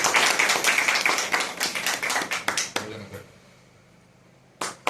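A crowd applauds at a flag handover ceremony: dense, lively clapping for nearly three seconds fades out, followed by quiet, then a short final burst of claps.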